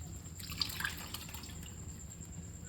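Water trickling and dripping into a pot of dal as it cooks in a home kitchen, a soft steady splashing pour that stays fairly quiet and continuous with no voices.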